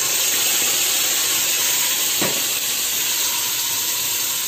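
Ground tomato and garlic paste hitting hot oil for a tomato chutney, a loud steady hiss and sizzle filling the whole clip with no voices.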